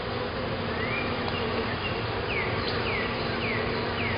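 Honey bees buzz around an open hive during an inspection, a dense steady drone with individual bees whining past close by and no voices.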